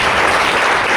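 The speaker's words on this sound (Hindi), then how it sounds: "कंपनी के लिए एक बार जोरदार ताली बजाएं।" A crowd at a business plan presentation bursts into loud, dense applause for a company, a brief continuous roar of clapping.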